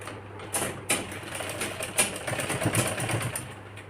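A sewing machine stitches across a girl's one-piece frock, a close mechanical whir with uneven bursts and pauses as the fabric is guided, no talking.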